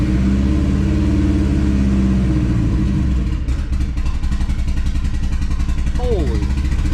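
A street-tuned Wagon R's engine cranks and runs loudly up close, a steady rumbling drone with clattery, sputtering pulses, as a voice briefly speaks over it.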